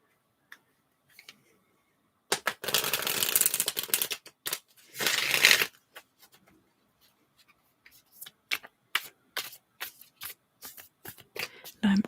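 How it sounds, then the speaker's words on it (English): Cards are riffled in two loud bursts, followed by a string of light taps and flicks as the deck is handled and squared, with no talking. "I'm almost done shuffling your cards"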